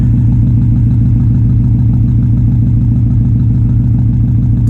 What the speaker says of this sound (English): You could hear the tick out the back.